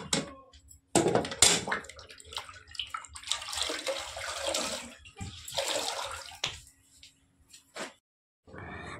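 A wet floor mop sloshes and swishes in irregular bursts, with water splashing and dripping between strokes and short quiet gaps.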